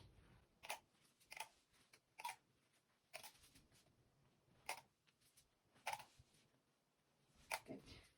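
Sharp scissors trimming fabric edges along a butterfly lattice quilt border, with a series of brief, crisp snips spaced about a second apart, quiet and close.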